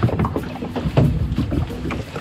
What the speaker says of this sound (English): See me rowing, rowing, rowing, rowing.